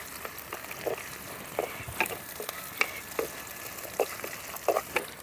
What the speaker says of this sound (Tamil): வெந்தயமும் கடுகு நல்லா பொரியணும்